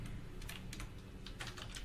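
Quick, soft keystrokes on a computer keyboard tap out a short burst of typing, fairly close but quiet, over a low steady background hum.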